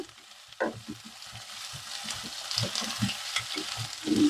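Raw potatoes fry on high flame, giving a steady sizzle with soft stirring and scraping knocks throughout.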